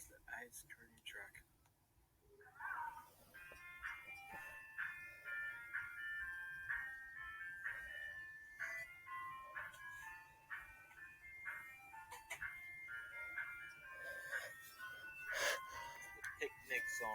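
Ice cream truck jingle playing the picnic song on an Omni Music Box, a bright tinkly melody of repeated notes running steadily with a faint voice and sounds underneath, the tune carrying on to the end.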